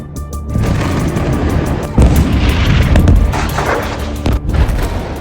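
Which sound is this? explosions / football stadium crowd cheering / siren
explosions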